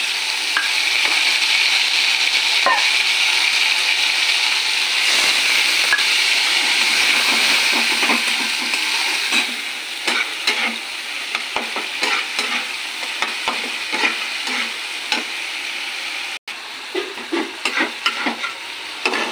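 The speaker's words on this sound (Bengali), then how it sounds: "জিরে আদা লঙ্কা আর একটু কাশ্মীরি লঙ্কা দিয়ে দিচ্ছি" Cumin, ginger and chili, including Kashmiri chili, sizzle steadily in hot oil while a spatula stirs and scrapes through them, producing dense continuous frying hiss with frequent close clinks and scrapes; no one talks.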